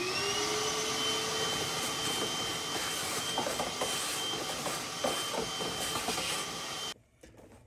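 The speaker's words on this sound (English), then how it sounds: "I'll go ahead and get the shop vac out and we'll get that cleaned up" A shop vac whines steadily at close range, sucking debris out of a used car, with faint clatter from debris knocking through the hose. The motor then cuts off abruptly near the end.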